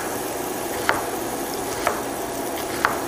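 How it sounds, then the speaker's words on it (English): Onions sautéing in a pan, a steady soft hiss and sizzle with three faint clicks spaced about a second apart. "we're gonna saute our onions"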